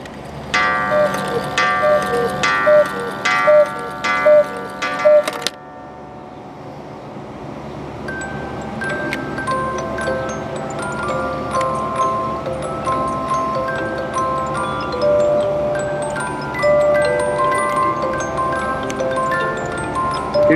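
A Rombach & Haas 8-day musical cuckoo clock plays one of its two tunes at the top of the hour. A run of bright chime-like strikes gives way to a sustained tinkling music-box melody, close and clear.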